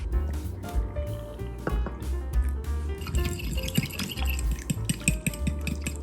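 Cold water poured into a bowl of palabok sauce powder while preparing Filipino noodles, heard as close drips and liquid splashes with light clinks against the bowl, with no talking.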